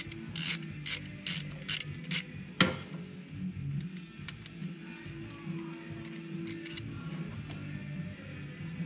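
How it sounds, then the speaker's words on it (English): A ratchet loosens the mounting hardware on a motorcycle dipstick cover during an HMF full exhaust install, giving rapid clicking pawl bursts with one sharp metallic knock, close and alone. "So all you're doing is loosening the mounting hardware on this cover."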